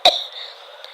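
A cartoon woman gives a sharp cough, choking on cooking smoke from a wood fire, followed by a lingering tonal ring and a faint second cough near the end.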